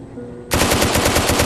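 A turret gun in the video game Plastic Battlegrounds firing a loud, rapid automatic burst that starts abruptly after a short quiet lead-in and keeps hammering at a steady rhythm.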